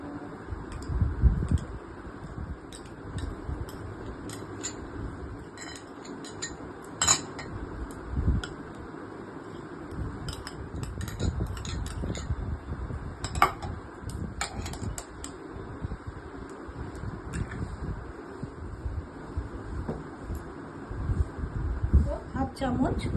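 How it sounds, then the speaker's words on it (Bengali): Egg, ground dalia, cumin and ajwain being stirred together in a bowl, with steady clinking and scraping of a utensil against the bowl throughout, close and moderately loud, while a person talks over it. "সব উপকরণগুলো মিশিয়ে নিচ্ছি।"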